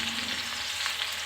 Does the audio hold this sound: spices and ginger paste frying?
yes